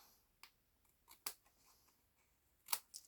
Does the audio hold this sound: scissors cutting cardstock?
yes